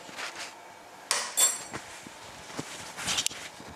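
A spoon chopping food into small pieces for a post-workout diet meal, giving a few brief clinks and scrapes against a dish, some sharp and close, with no talking.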